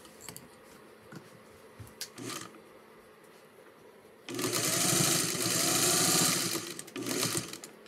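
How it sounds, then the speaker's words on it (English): Sewing machine stitching through a quilt without a walking foot, a loud steady whirring run of a few seconds that starts abruptly after quieter handling noises and small clicks. "this is not going to be my best stitching job without the walking foot"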